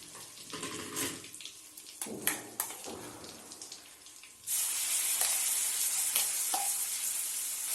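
Ground paste, made with a little water, goes into a hot pan of whole spices for restaurant-style paneer butter masala. Scattered clinks and scraping give way to a sudden, loud, sustained sizzle, and no one speaks.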